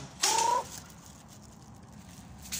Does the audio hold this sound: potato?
no